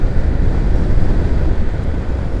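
A Yamaha Lander motorcycle runs at speed in fifth gear after a quick run to 100 km/h, its steady roar buried under heavy, continuous wind buffeting on the microphone.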